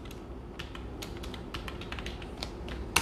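Rapid typing on a computer keyboard while entering journal entries in Tally Prime accounting software, with close, crisp key clicks in an irregular rhythm and a sharper final keystroke like Enter, no talking.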